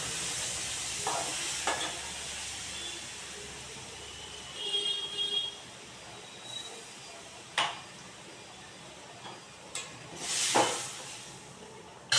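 Spice paste (masala) frying in a pan as its water cooks off gives a steady soft hiss and sizzle, broken now and then by a few sharp scrapes of a spoon, fairly quiet and close with no speech.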